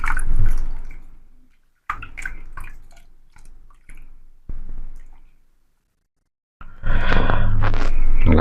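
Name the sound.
lye solution poured slowly into soap mixture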